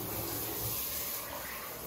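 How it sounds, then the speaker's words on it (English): Water from a Kohler rain shower head keeps dripping and trickling after the flow is shut off, a soft, continuous wet patter in an enclosed shower, faint and uninterrupted. "the real rain does take a little while for it to stop dripping."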